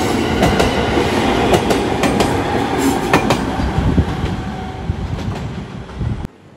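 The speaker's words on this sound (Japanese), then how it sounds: "どうやら青森駅を出発した普通列車がここを通るそうです。" A local train passes a railway level crossing near Aomori Station in Japan, a loud continuous roar of wheels with repeated clickety-clack rail joint beats close by, then the sound cuts off abruptly at the end.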